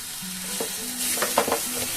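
A spoon stirs carrot halwa with a paste of nuts and raisins in a pan, the thick mixture sizzling gently with short scraping strokes.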